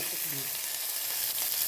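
Onion sizzles loudly in hot ghee with a dense, even frying hiss close by, and a soft stir early on.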